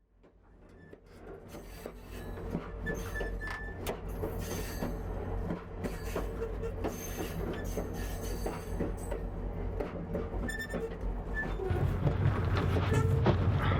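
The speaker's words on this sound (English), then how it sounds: "So we're on the train to Churchill right now." Steady rumbling and rattling of a train to Churchill rolling along its tracks, with creaks and squeals from the carriages, growing louder and heavier toward the end.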